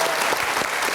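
Studio audience applause at a motivational seminar, a steady dense wash of many hands clapping together, loud and continuous throughout with no pauses.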